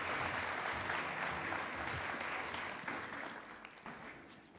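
A large audience applauds at the opening of the Kalasha International Film & TV Market festival, dense and continuous clapping that holds steady and then gradually eases.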